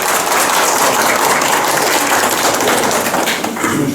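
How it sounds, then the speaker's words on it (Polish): An audience applauds a young prizewinner at an art competition award ceremony, close, loud, continuous clapping from many hands that dips slightly near the end. "prosimy Państwa proszę o klaski"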